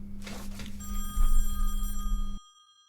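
A telephone bell rings in a loud, continuous electric trill for about two seconds, then cuts off abruptly into silence, with a steady hum underneath.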